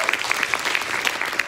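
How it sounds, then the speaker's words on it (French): Audience applause after a piano performance at a music workshop show, dense steady clapping throughout, moderately loud and close, no speech. "On peut l'applaudir encore une fois."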